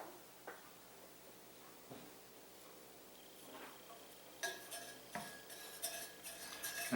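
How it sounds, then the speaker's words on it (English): A measuring spoon stirs brownie cake batter in a bowl, giving light clinks and scraping taps against the bowl that grow busier and louder near the end, close by with no talk. "I'm just going to stir this for a second with my measuring spoon to get it cleaned off"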